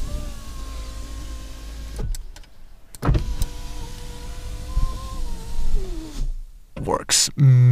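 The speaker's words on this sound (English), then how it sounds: "Test the window." Power window on a Calibra car motoring up and down, a steady electric whine with tonal harmonics, broken by short clicks and stops, ending with a thud, under someone talking.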